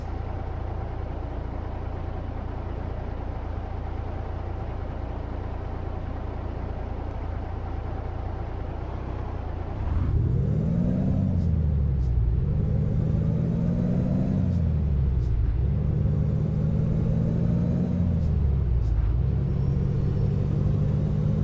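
A heavy truck pulls up at town traffic lights, its engine droning steadily before a louder, close rumble that swells and dips repeatedly as it brakes to a stop, with a thin high whine riding above.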